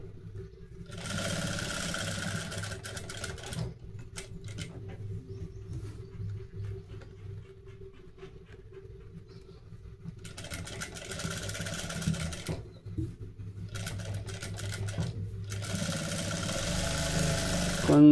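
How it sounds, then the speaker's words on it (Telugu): A sewing machine runs in steady bursts while stitching a blouse, its motor whirring loudly for a few seconds, stopping in near silence, then starting again for several more runs. "దీని పక్కన కుట్టు వేసేసుకోండి."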